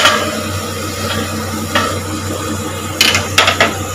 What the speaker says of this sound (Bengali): আবার ঢাকনাটা তুললাম